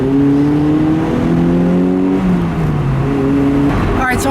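A 2011 Mazda MX-5 Miata with a manual gearbox being driven, its engine note rising and falling through revs and gear changes, close and fairly loud with road noise underneath.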